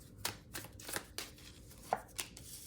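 Tarot cards being shuffled by hand: a handful of quiet, sharp riffling slaps spaced irregularly, close and soft, with no voices.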